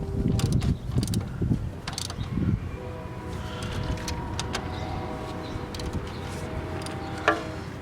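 Tightening thermostat housing bolts on a 2001 Honda Civic: scattered metallic ticks, clunks and short ratcheting clicks up close, irregular and fairly quiet, with faint background hum.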